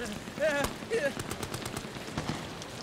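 Quiet, scattered gunshots and rattling fire in Amnesia: The Bunker, a few soft sharp cracks over a noisy rumbling background with some brief tonal game sounds.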